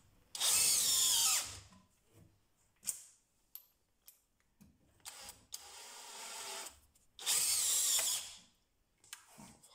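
A DeWalt DCD996N cordless drill drives screws into wood at full power with no pilot holes, three loud whirring bursts of a few seconds each, separated by quieter handling noises.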